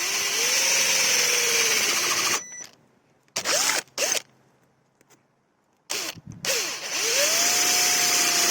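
An electric drill with a 9 mm (3/8 inch) metal bit whines up to speed and runs, stops, then gives short bursts before spinning steadily again, loud and close with no talking.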